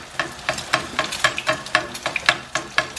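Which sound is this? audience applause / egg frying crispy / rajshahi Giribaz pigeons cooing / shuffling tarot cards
egg frying crispy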